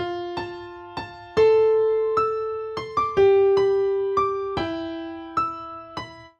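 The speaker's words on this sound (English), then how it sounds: "So obviously this is still played on a piano and we want the guitar." A simple melody of single piano notes played from a piano roll with the FL Keys piano, each note struck cleanly and left to decay, about a dozen notes at a steady moderate pace with no voices.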